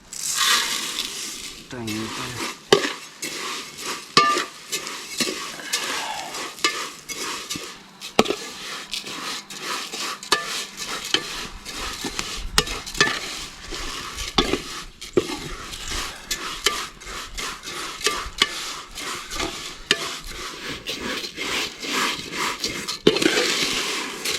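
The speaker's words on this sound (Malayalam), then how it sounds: "ഇതിൽ നമുക്ക് ഇത്രയും ഈ സേമയത്തിനെ വഴട്ടിയെടുക്കണം ആദ്യം" Vermicelli roasting in a little ghee in a pan for Onam payasam, stirred with steady scraping and soft sizzling that runs throughout at close range, with irregular clinks and taps of the spoon.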